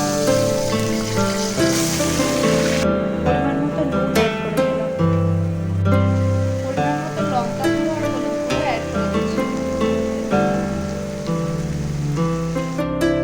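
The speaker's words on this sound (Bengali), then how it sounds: "ডাইস করে রাখা আলুগুলোকে আমি ভেজে নিচ্ছি" Diced potatoes fry in a pan for egg curry, giving a steady, loud sizzle and crackle that runs unbroken throughout, with a tonal musical backing underneath.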